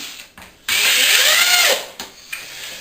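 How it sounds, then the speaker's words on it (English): A power drill or driver drives screws into wood while a drawer is being built, one loud steady burst of about a second close by, with lighter clicks and handling before and after. "Then just re-screw the screws"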